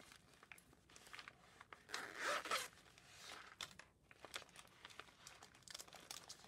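A zipper on a wrapped gift package is pulled open close up, a brief raspy zip followed by crinkling and rustling of wrapping, all fairly quiet with no speech.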